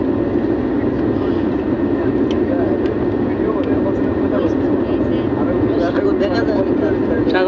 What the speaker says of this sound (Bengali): বিমান আরো উপর উঠবো।